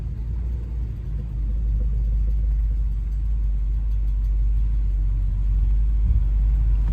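A 1967 Chevrolet C10 pickup with a big back window rumbles steadily as it starts to accelerate. The low engine drone builds slightly and holds strong throughout, close and loud, with no voices.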